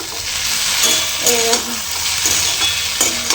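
Okra and onion frying in a pan with steady sizzling and a few stirring scrapes, close and continuous.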